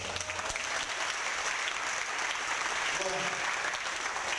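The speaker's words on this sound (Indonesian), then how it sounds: "karena banyak yang tepuk tangan" Audience applause at a motivational seminar, a dense steady clapping that carries on throughout at moderate distance, with a brief voice briefly audible beneath it.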